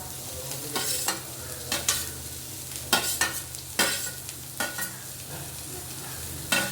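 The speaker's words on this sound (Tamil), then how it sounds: "துருவி வச்ச தேங்காயை போட்டு ஒரு வதக்கி" Onions and grated coconut sautéing in a pan as they are stirred, a steady close sizzle broken by repeated sharp scraping strokes of the spoon, with no voices.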